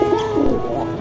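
Pigeons coo in a loft, a close, loud, throaty warbling call rolling continuously through the short moment with no talk.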